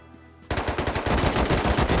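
AK rifle fire in the Rust survival game: after a quiet half second, a loud, rapid automatic burst of close gunshots rattles on in a steady, punchy rhythm until the end.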